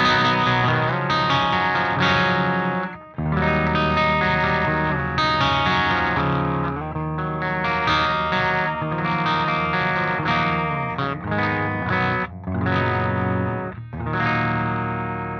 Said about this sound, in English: let's check out also the clean channel on channel 3. Clean mode on channel 3.